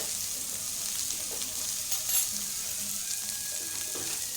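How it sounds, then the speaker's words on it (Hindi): Potatoes fry in a hot pan on a gas stove, a steady broadband sizzle with a few soft scraping stirs, close and continuous with no talk. "चटपटा चटपटा फ्राई कर लेंगे। ये देखिए, गैस को तेज कर देते हैं।"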